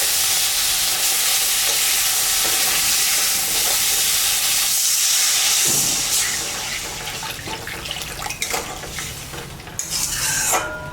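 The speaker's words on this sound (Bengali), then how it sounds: "মশলাটা কষানো হয়ে গেছে, আমি এখন সামান্য জল দিই।" Water poured onto fried spice paste for a snakehead fish curry makes a loud, close, hissing sizzle. It fades after about five seconds into softer bubbling, and a few pot and utensil clatters follow.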